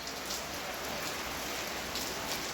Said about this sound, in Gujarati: અટાણે જો આમ ચાલુ થયો ધીમી ધારે વરસે છે